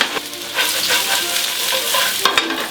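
Potatoes, mushrooms and onions sizzle loudly in a hot pan while being stirred and turned, with a continuous close frying hiss and scraping utensil strokes.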